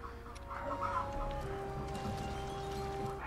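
Chickens or a rooster clucking in Zelda Breath of the Wild, a few close clucks over a steady in-game background hum.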